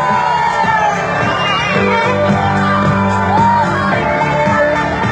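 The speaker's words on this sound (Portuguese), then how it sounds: "Dá um grito!" A crowd at a 2016 community bike ride in the Parque Guarani neighborhood of Joinville, Brazil, shouts and whoops loudly and continuously, with overlapping yells and cheers close by.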